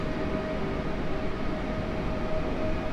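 An Elf electric multiple-unit train pulls away from Kraków Główny station, a steady low rumble with a sustained electric whine tone, close and continuous.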